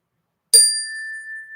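A single bell is struck once, a bright ding that rings on with a long, steady sustain, clear and close with no other sounds.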